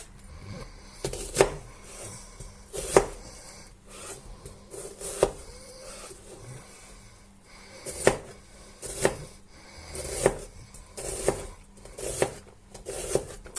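Knife strikes on a cutting board while chopping onion, scattered irregular chops with scraping in between, close and fairly crisp, no talking.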